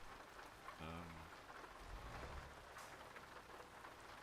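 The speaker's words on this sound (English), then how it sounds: "this rain is quite loud, isn't it?" Rain falling in a weather mod for Euro Truck Simulator 2, played while driving a Volvo FH Classic truck: a steady, fairly loud hiss of rain that runs throughout, with a low engine rumble beneath it.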